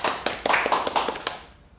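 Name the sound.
applause for a speaker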